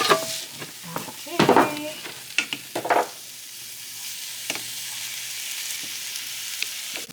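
Tomatoes and meat frying in a pan for tacos, with a few spoon scrapes and clatters in the first seconds, then a steady close sizzle; a voice speaks briefly at the start.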